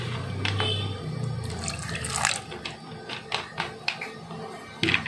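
Water poured into a mix of dried prawn and raw plantain curry ingredients with coconut oil, a short splashing run followed by scattered clinks and light handling sounds, fairly quiet.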